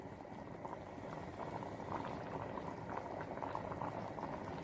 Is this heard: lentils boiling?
yes